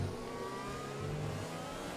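A Formula 1 race car engine in the F1 2020 game screams at sustained high revs, over-revving loudly and steadily throughout with a dense, buzzing drone and no talk.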